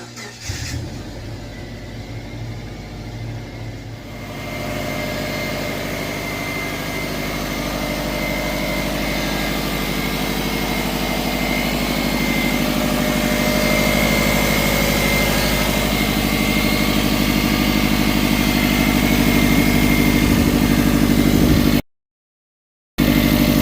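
A Subaru 2.5L engine runs up close and loud, its drone rising and holding at a steady 2,000 to 3,000 RPM for a long stretch, then cutting off briefly near the end.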